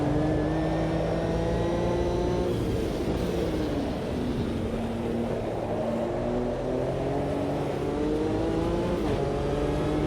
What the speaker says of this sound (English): Great noise from those vintage Formula cars.